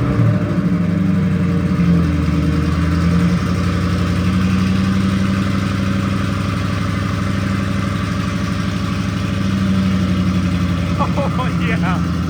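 A custom Saleen Mustang rumbles steadily on a short drive around the block, its engine note loud and continuous with slight revving, nearby throughout.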